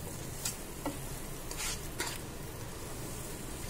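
Sugar being stirred into watermelon halwa in a pan, with soft scraping strokes of the spoon at a few irregular moments over a low, steady sizzle, close and quiet, with no talking.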